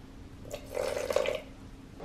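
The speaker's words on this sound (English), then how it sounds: "Now, this is too thick, so I'll be adding some water." Water poured into thick homemade dosa batter gives a brief, soft splashing trickle that swells and fades within about a second, quiet and close with no talk.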